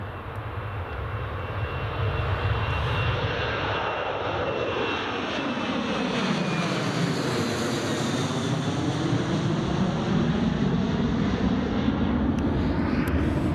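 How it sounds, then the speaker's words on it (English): A Ryanair Boeing 737 takes off from Newcastle Airport, its jet engines building into a loud, sustained roar that sweeps past and holds steady, with a rising and falling whine over the rumble. "Here she comes. That's a nice takeoff route."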